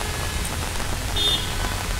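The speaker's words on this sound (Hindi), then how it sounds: "बहुत ज़्यादा बारिश हो रही है।" Heavy rain falling on a Delhi road beside jammed traffic, a dense, steady hiss of drops pattering on the surface close by, continuous and without speech.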